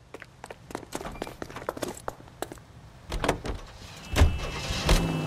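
In the L.A. Noire video game, a car's doors clunk and thump in quick succession, then the engine rises as the vehicle pulls away, its rumble growing louder and rougher toward the end.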